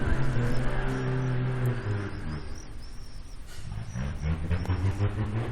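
A modified, pimped-up Volvo car drives around at night near Torsås, its engine rumbling and revving steadily and fairly close, with a low roar that swells and eases over several seconds.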